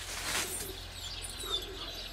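Pigeons or doves coo softly at a distance over faint outdoor background noise, joined by a few thin chirps, with no one speaking.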